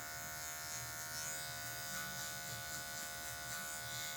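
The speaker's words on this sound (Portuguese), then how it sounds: "Vou usar a pontinha da máquina aqui para tirar em algumas regiões bem específicas." An electric hair clipper trims hair with just the tip of its blade during a mid fade haircut, a steady, faint, close electric buzz with no talking.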